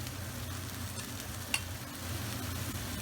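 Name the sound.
browned beef mince sizzling and being stirred in a pan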